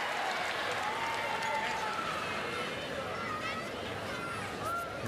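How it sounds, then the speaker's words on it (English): Arena crowd at the Champ de Mars Arena roars and cheers steadily through a Paralympic women's -70kg para judo gold medal final, a dense continuous wall of voices with a commentator talking over it. "The crowd getting behind her."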